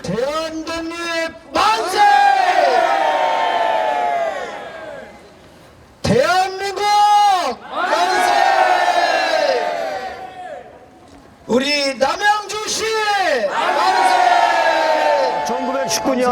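A crowd shouts "manse" in three long, loud collective cheers separated by short pauses, with voices rising and falling together at a March First independence movement commemoration with a torch march reenactment in Namyangju.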